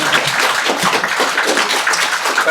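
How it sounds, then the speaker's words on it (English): Audience clapping at a pension scheme event, a thick continuous patter of many hands, fairly loud and steady throughout with no voices breaking through. "but I suppose you should clap first."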